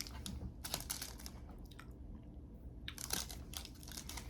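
Crunchy Canadian candy bar being chewed close up, with bursts of crisp crunching and biting in a few irregular clusters separated by quieter pauses.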